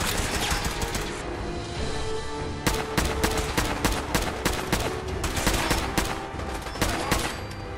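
Rapid, loud bursts of automatic weapon fire come from a Fallout 4 battle, where a super mutant fires a laser rifle in dense, crackling volleys. The shots repeat for several seconds with no talking over them.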